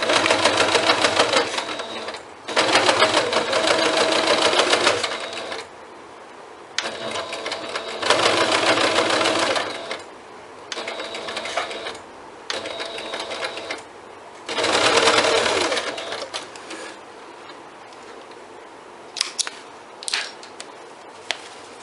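Sewing machine stitching a tote bag through thick folded seams, running in several bursts of rapid mechanical chatter a few seconds each, separated by brief pauses, with a few light clicks near the end.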